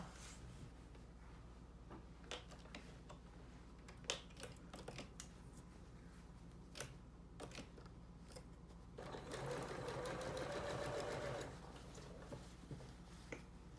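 A sewing machine fitted with a 1/4 inch walking foot stitches a quilt-as-you-go seam, sounding as a faint steady hum with scattered clicks and a louder sustained run of stitching near the end.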